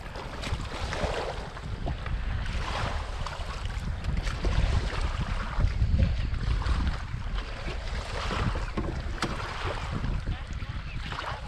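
A 650 WaveJammer jet ski engine runs continuously with a broad, rough roar mixed with water and wind noise, steady and fairly loud throughout.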